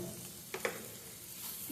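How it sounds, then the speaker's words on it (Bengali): Sesame seeds fry with garlic and onion in a pan of oil, making a constant soft sizzle with a couple of brief stirring clicks near the start. "তিলটা দিয়ে একটু ভাজা ভাজা হবে।"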